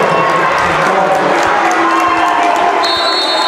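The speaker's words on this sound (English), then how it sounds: "The crowd did not like that call" Basketball crowd in a playoff play-in game between BR and Richfield, booing and shouting in disapproval after a referee's foul call, a dense roar of many voices under commentary.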